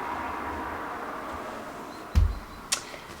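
Cars passing outside during an indoor writing vlog: a steady low traffic rumble with a sharper whoosh and thump about two seconds in and a smaller burst shortly after, no talking.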